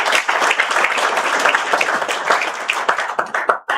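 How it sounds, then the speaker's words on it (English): An audience at an entrepreneurship introduction program gives a loud, dense round of applause that continues throughout and thins out into scattered claps at the end. "So a huge round of applause for you guys."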